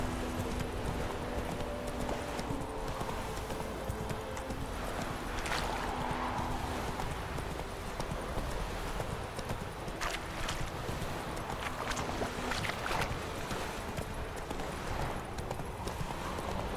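Hooves of a horse galloping in The Witcher 3 video game, a steady clip-clop rhythm running throughout over a constant game ambience, with faint voice sounds now and then.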